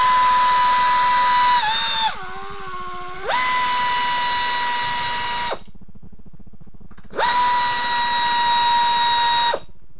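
A power tool with a loud, steady high-pitched whine runs during radiator work on a 2006 Suzuki S50 Boulevard 800cc motorcycle. It sounds close, dips in pitch under load for about a second, cuts out, then starts again for a second run.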